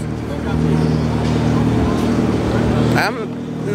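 A car's engine rumbles steadily and loud at a Halloween-themed car meet, with a brief rise around three seconds, close by and continuous under background chatter.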